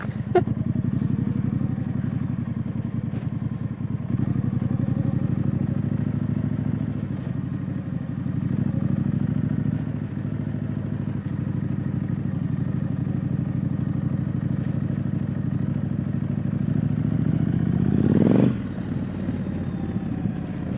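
A Street Scrambler motorcycle rides off-road over bumps, its mid-pitched engine droning steadily close by, with occasional clatter from the rough ground and a sharp surge in revs near the end.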